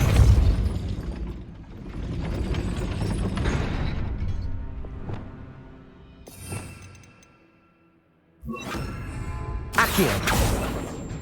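Depulso repelling spells cast in the Hogwarts Legacy video game: booming, whooshing blasts with mechanical clatter, a quiet lull, then renewed loud impacts near the end.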